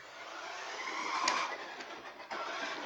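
An RC Lamborghini Aventador toy car runs with a steady, slightly noisy electric motor whir, fairly close and continuous, with a brief louder swell partway through.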